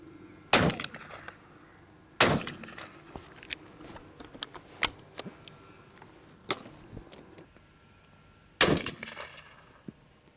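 Shotgun blasts fired at crows flying over a maize field, four sharp loud reports spaced irregularly across the stretch, each with a short outdoor decay, plus a few fainter clicks and knocks between.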